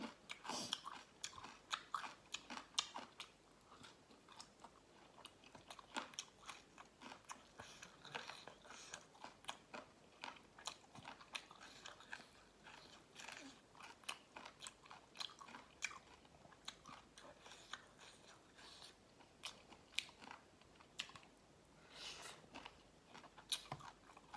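Steady crunchy chewing of Thai papaya salad and air-fried chicken with crispy skin, close and fairly quiet, a continuous run of crisp bites and munching with no talking.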